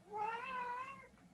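A house cat named as a pet meows once, a single drawn-out, rising-and-falling cry lasting about a second, close and fairly clear over quiet room background.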